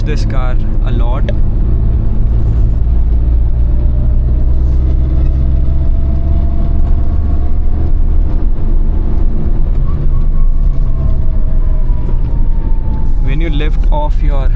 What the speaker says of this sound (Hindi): Going to push this car a lot.